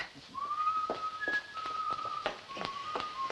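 A person whistles a tune in a kitchen, a thin, wavering melody held at moderate distance while light tapping and clinking sounds mingle underneath.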